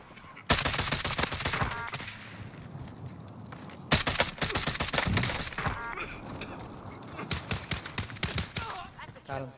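Rapid bursts of automatic and semi-automatic gunfire ring out in a Call of Duty Cold War Warzone match, loud clustered volleys separated by brief pauses, with players talking over the shooting.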